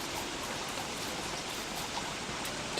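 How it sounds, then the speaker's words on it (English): Steady, even hiss of rainfall in the video game Don't Starve with no voices, a constant wash of drops at moderate volume throughout. "And it's raining."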